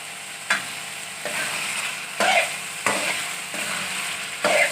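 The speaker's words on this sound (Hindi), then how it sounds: "और तेज़ आंच पे हम इसे 5 से 6 मिनट इसकी बुनाई करेंगे।" Chicken karahi with tomatoes sizzles in a pan over high heat while a spoon scrapes and stirs it in repeated strokes, a steady close frying hiss broken by rhythmic clanks, with no voices.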